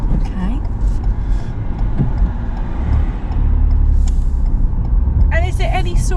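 Interior drone of a Mk8 Ford Fiesta 1.1 non-turbo Zetec on the move, a steady low engine and road rumble with people talking over it inside the cabin.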